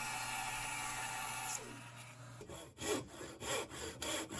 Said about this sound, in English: The third cut is the top cheek with the bandsaw.